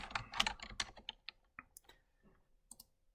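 Keys clatter on a computer keyboard while a formula is entered into a Google Sheets cell, a quick run of close, crisp clicks that thins into scattered taps and pauses.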